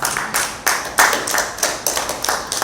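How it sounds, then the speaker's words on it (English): A small audience at a women's institute anniversary meeting claps in an uneven burst of applause, near and fairly loud, with no talking over it. "give yourself a round of applause, man"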